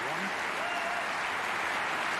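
A snooker crowd at the German Masters semi-final breaks into steady, sustained applause for a shot, the clapping dense and even from start to finish.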